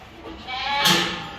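A Totapuri goat on a farm gives a single loud, close bleat lasting just over a second, rising in strength and then fading.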